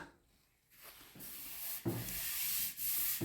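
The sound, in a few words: stripping paint off a motorcycle tank by rubbing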